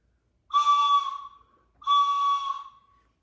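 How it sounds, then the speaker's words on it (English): A train whistle blows twice, each blast about a second long with a short gap between, loud and close, with no other sound around it. "that's a real train whistle"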